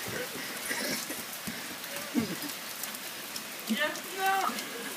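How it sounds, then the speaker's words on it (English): Steady rain falls outdoors, a soft continuous patter, while people talk and exclaim faintly over it. "It's still raining pretty good."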